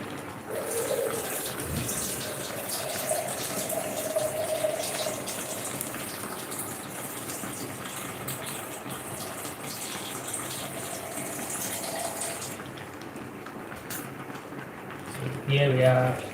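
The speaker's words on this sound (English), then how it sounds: "So I'm gonna add some water." Water gushes steadily into a cooking pot for plantain and salt fish sauce, a continuous pouring rush with a voice talking over it, ending with a few clatters.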